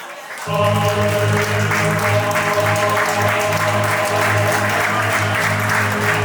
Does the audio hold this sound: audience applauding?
yes